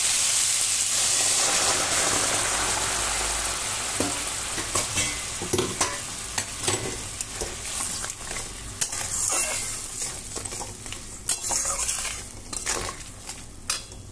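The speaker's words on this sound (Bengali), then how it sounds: "এবার গরম জলটা দিয়ে দেবো।" Hot water goes into a sizzling potato and pointed gourd curry in a pan, a loud hiss and bubbling at first, settling into stirring and scraping clinks against the pot.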